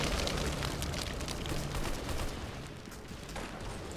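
Desert Eagle pistol fire in the Roblox shooter Arsenal comes through as loud, dense, rough bursts of shooting that run on without pause and ease off slightly toward the end.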